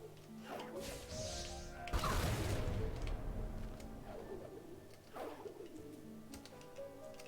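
A bird coos softly in a video game, a few rolling calls near and moderately loud, interrupted by a sharp crash-like hit and a noisy burst partway through; no speech.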